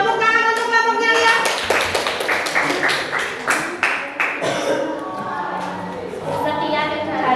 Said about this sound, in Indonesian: Tepuk tangan untuk kelompoknya Lia.